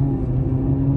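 A small car rolls past close by, a brief steady low rumble of engine and tyres lasting about a second, with no talk.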